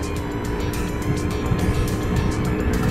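A scooter fitted with a modified torque drive pulley revs hard at high RPM, a loud steady buzzing engine whine with rapid pulsing exhaust, close to the microphone and without talk.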